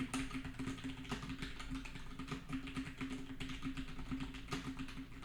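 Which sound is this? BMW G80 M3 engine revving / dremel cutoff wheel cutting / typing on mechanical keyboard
typing on mechanical keyboard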